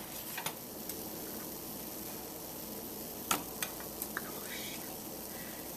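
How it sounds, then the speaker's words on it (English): Milk sauce for scalloped potatoes being stirred in a pan with the heat off, producing a soft continuous hiss and a few light utensil taps and clicks near the end. "I'm just going to stir this until it's nice and smooth"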